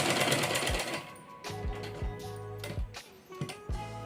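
A sewing machine stitches a blouse latkan, its needle thumping in close, rhythmic bursts that stop and restart between short runs of stitching.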